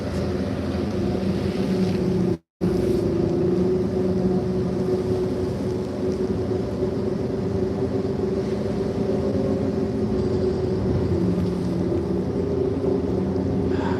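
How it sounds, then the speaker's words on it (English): Ship breaking through thick Arctic sea ice, a loud, constant low engine drone and grinding rumble up close, with one brief dropout and no talk. "Started breaking ice, got real thick about an hour and a half ago."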